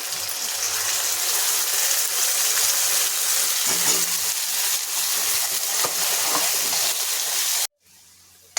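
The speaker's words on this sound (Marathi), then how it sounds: "वाटण छान भाजलं जात आहे मस्त त्याला तेलही सुटत आहे" Ground masala paste with onion frying in oil gives a steady, loud sizzle that crackles continuously for several seconds before cutting off abruptly near the end, leaving faint quiet hiss.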